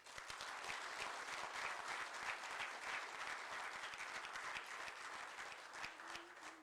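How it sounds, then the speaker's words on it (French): An audience applauds steadily during a presidential speech, a dense wash of many hands clapping at moderate distance that holds for several seconds. "Je souhaite qu'on les applaudisse."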